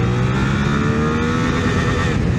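A Suzuki GSX-8R motorcycle engine roars loud and close, held high and steady against the rev limiter for the whole stretch.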